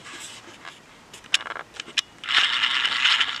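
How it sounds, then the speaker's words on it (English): Ratchet turning a bolt on top of a 2005 Dodge engine during a thermostat job: close, clicking metallic ticks in short bursts, then a longer steady run of rapid ratcheting. "we'll simply remove that bolt there"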